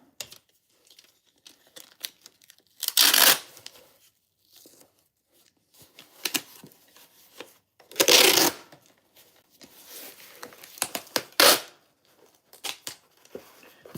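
Adhesive tape being pulled off the roll and wrapped around a small item, heard as three loud ripping bursts separated by quieter crinkling and handling noises, close to the microphone with no talking.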